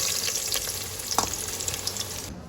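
Cloves sizzle in hot mustard oil, a close continuous bright crackle with scattered pops, moderately loud and steady before cutting off near the end, no talking.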